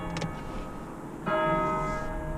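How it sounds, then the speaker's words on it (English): Church bells ringing out in London, a bright tonal peal that swells in partway through and sustains with lingering harmonic overtones over steady background noise. "You can hear the church bells"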